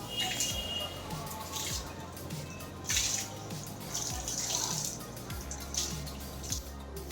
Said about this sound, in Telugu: వీటికి అన్నిటికీ ప్రతిరోజు మా శ్రీవారి ఇలాగా చక్కగా వాటర్ పడుతూ ఉంటారు